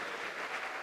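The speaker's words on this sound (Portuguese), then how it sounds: "vamos aplaudir mais, igreja" A church congregation applauds during a sermon in a brief burst of steady, dense clapping. The clapping is fairly distant and continuous, with no other sound standing out.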